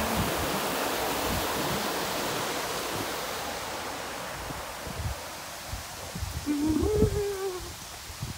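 Continuous broadband rush of flowing floodwater outdoors, steady and fairly loud, with a brief voice-like sound near the end.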